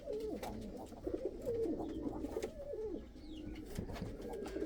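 Chinese owl pigeons in a breeding loft giving soft, low repeated coos and throaty murmurs, fairly close and continuous, with faint background clatter.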